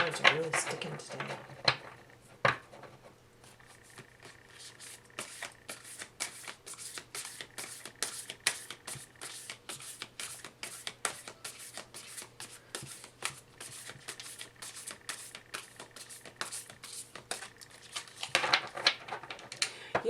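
A deck of tarot cards is shuffled repeatedly in quick riffling bursts, close and crisp with a slightly sticky feel, rhythmic flutters running steadily throughout; someone speaks briefly at the start.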